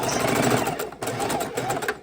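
A longarm quilting sewing machine stitches fabric at a steady rapid pace, with a continuous close, loud mechanical whir and rhythmic needle chatter and a brief pause partway through.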